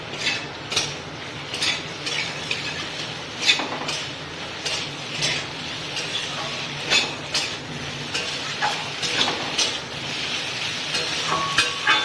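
Spoon scraping and tapping against a pan as ground cumin, ginger and green chilli paste is stirred with pointed gourd and potatoes, over a soft sizzle, with regular clinks at a steady rhythm close by.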